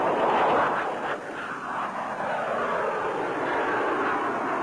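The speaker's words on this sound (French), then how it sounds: "L'avion s'accélère rapidement." A Dassault Balzac V VTOL testbed jet from 1962 accelerating, giving a loud, continuous jet roar with a sweeping whine that dips briefly and then steadies, heard alone without talking.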